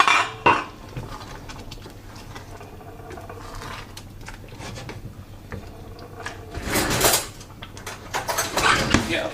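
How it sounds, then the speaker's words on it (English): A metal fork pokes and scrapes potatoes cooking in a pot of dal with vegetables. Soft clinks and rubbing sounds come at first, then sharper clattering scrapes near the end, close and fairly quiet. "Get a fork. This is how we check if our potatoes are cooking or cooked."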